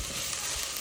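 Onions fry with ginger garlic paste for a mutton gravy, giving a brief, steady, close sizzle and hiss as they are stirred in the pan.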